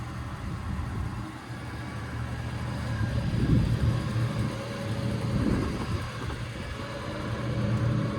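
A 1960s classic car engine, either a 1968 Pontiac GTO 400 or a 1967 Chevy Nova, runs steadily with a low, dense rumble that swells slightly midway, heard alone without talk.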